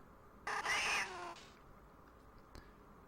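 Digitized yowl of a cat enemy in the Game Boy Advance version of Earthworm Jim, one loud drawn-out meow lasting about a second, followed by a short faint click, no talk.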